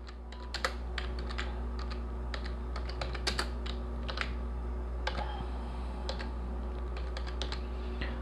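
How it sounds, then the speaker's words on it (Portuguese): Typing on a computer keyboard while entering an address into an online business profile form, close and quick key clicks in uneven bursts over a low steady hum, with no talking. "Agora eu vou digitar o bairro."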